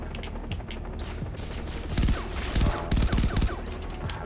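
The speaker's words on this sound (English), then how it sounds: "Robocop gun." Rapid bursts of gunfire from the Robocop gun in Far Cry 3: Blood Dragon, several loud clustered volleys of shots in the middle of continuous game noise, with no talking over them.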